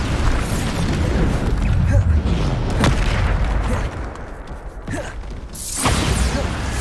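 Bombarda spell blasts in the Hogwarts Legacy video game, a series of loud booming explosions with whooshing bursts over dense, continuous battle noise.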